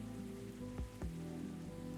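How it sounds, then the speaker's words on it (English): Rain falls as a constant, soft patter in the Coffee Talk video game, layered over a low musical drone, with two brief thuds in the middle. "That's just the rain."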